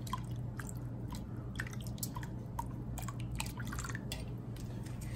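Water runs and drips while something is rinsed during Samoan cooking of palusami and taro, with irregular sharp drips and splashes over a steady low hum, close by, with no talking.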